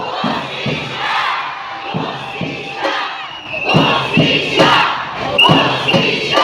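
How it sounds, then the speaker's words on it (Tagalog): A large crowd shouts a chant together in loud rhythmic bursts, voices overlapping with rising energy and thumping beats underneath. "Para kay Pastor Kiboloy, ano ang ating sigaw?"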